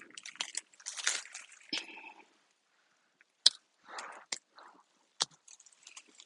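A crunchy snack is bitten and chewed close up, with sharp crisp cracks and bursts of crunching scattered irregularly between quiet gaps.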